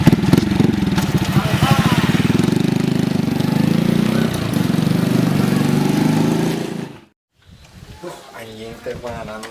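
A motorcycle engine revs loud and close for about seven seconds, then cuts out abruptly, followed by faint voices and rustling.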